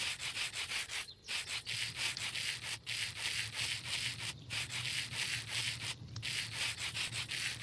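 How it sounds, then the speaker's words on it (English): In Minecraft, rose quartz is sanded by hand with sandpaper: a loud, close, steady gritty rasping that repeats in even strokes, with brief breaks about every one and a half seconds, and no voices. "place your sandpaper in your offhand, hold your rose quartz, and hold the right-click button"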